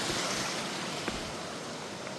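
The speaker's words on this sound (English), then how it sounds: "I could hear a river." A flowing river near a small park in Ludlow gives a steady, broad rushing wash that holds at an even level throughout, with no voices.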